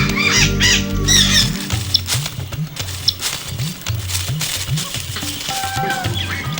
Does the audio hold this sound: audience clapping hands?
no